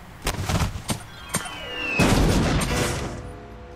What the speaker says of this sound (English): Cool guys walk away from explosions.